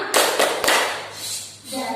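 Sharp hand claps in a children's mosquito-swatting clap game, a few quick loud slaps close by, then a fading wash of room noise.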